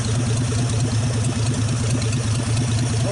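A 1948 Nash car engine with freshly adjusted valves and no exhaust fitted idles steadily and loudly up close, its even low rumble broken by a faint rhythmic clatter throughout.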